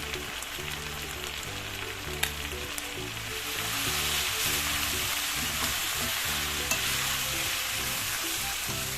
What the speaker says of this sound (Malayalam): ചിക്കൻ ഈ എണ്ണയിൽ കിടന്നിട്ട് നന്നായിട്ട് ഫ്രൈ ആവണ പോലെ ആയിട്ടുണ്ട്